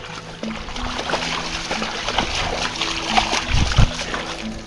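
German Shepherd splashing through a forest-trail puddle, wet sloshing bursts repeating unevenly and growing louder toward the end, with low-level talking faintly underneath.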